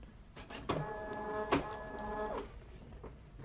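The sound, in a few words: card printer detecting ribbon after cover closed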